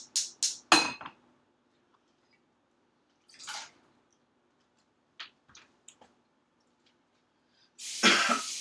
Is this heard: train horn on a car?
no